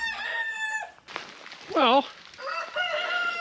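Hens in a chicken coop with barred rock hens among them: clucks and a rising crowing-like call from close birds, with a brief spoken word.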